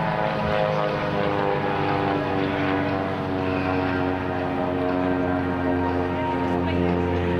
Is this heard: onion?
no